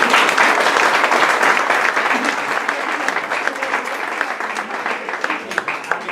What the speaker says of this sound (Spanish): vamos a dar un aplauso a Amélie